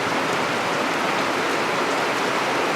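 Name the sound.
pouring rain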